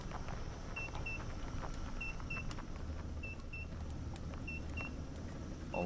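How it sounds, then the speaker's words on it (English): A machine in the factory video game MineMogul emits repeated paired high beeps at regular intervals over a low ambient hum. "Stop your beeping."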